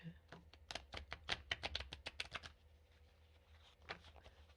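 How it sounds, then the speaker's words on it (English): Tarot cards being shuffled by hand in quick crisp riffles and slaps, a rapid cluster of clicks followed by a quieter pause and a couple of final taps, faint and close. "I want to really shuffle these for you"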